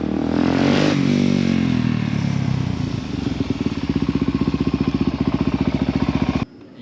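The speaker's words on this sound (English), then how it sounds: "I'm gonna let her warm up a little, and hopefully she don't stall out" A supermoto motorcycle engine, recently brought back to running condition, rumbles loudly with a revving start that settles into a steady, rapid idle thump for several seconds, then cuts off abruptly.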